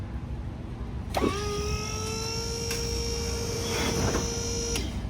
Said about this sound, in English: here's our drift car lift, courtesy of FMI